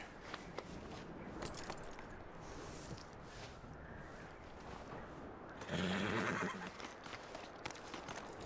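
A horse in the Western game Red Dead Redemption 2 gives a loud whinny, with clip-clopping hooves and game ambience around it and a louder snorting burst near the end.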